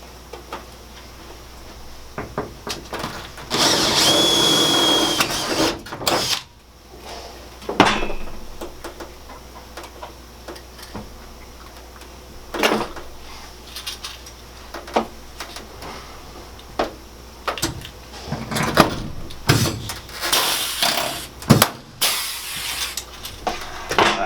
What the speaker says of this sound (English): punch his hole for the flange right here to set a rivet